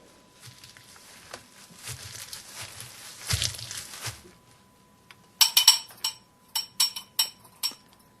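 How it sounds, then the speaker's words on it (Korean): Straw sandals step along a stone-paved path toward a shrine, soft scuffing treads giving way to a series of crisp, close footfalls with short pauses between them. "그리고 나면 집신 소리가 처벅처벅 난다."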